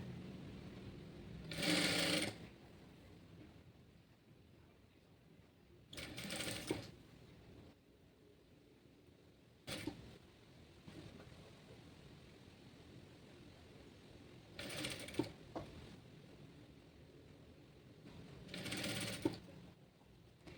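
A sewing machine stitches a shimmy hem in five short, separate bursts of rapid mechanical whirring, close by, with quiet pauses between runs.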